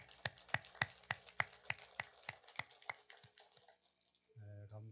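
Members of a church congregation clapping together, a quick run of distinct claps that slow and thin out before stopping, followed by a voice at the very end.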